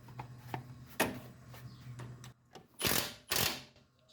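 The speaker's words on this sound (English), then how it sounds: "The only thing left to do is remove the 4 bolts for the lower ball joint." Sharp metallic clicks and ratcheting bursts come from a wrench working the lower ball joint bolt on a two-door Chevrolet Tahoe, irregular and close, with a few louder rasping strokes near the end and no talk.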